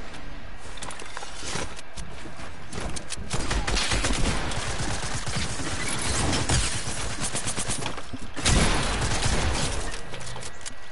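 Rapid, dense gunfire from a Fortnite match crackles almost nonstop, loud bursts of automatic shots stacking over one another, with a heavier volley swelling near the end.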